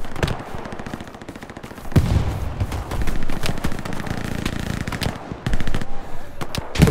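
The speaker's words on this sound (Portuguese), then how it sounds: "Cara de MG aqui atirando na mata" Machine gun fire in a wooded battlefield in the Hell Let Loose video game, with rapid bursts of shots, some near and loud, others more distant, continuing throughout the scene.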